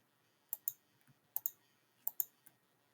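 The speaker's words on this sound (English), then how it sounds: "you can just click on the undo button" A computer mouse clicks on an undo button, several soft, close clicks in quick pairs separated by short pauses in an otherwise quiet room.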